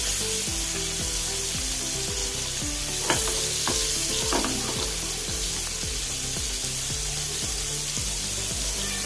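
Pieces of pomfret fish frying in hot oil in a pan make a dense, steady sizzle that holds at an even level throughout, with a few sharper crackles and music playing underneath.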